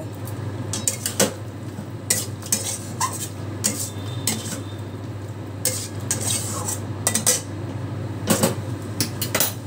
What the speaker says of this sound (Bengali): কপিগুলোকে দিয়েও আমি ভালো করে আবারও কষিয়ে নেব।